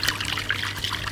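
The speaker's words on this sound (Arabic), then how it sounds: "هحط حبه من السويت اند ساور كده في التتبيله" Sweet and sour sauce trickles into a bowl of chicken marinade seasoned with garlic powder, salt, black pepper, vinegar and lemon, a soft steady dribble of liquid close up with no talking.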